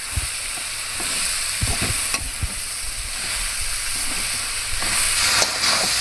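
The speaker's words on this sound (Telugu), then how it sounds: "ఫ్లేమ్ తగ్గించేసి బాగా కలపాలి." A spoon stirs scrambled baby shark fish puttu with grated coconut in a hot pan, giving continuous frying sizzle and hiss punctuated by several sharp scraping knocks against the metal, close and without talking.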